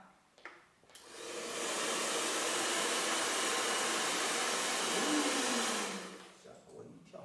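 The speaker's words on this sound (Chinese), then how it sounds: "这还没完我们把它吹干一下" A hair dryer blows on a wet Chinese ink landscape painting, a loud steady whoosh that switches on after a brief pause and runs for several seconds before cutting off.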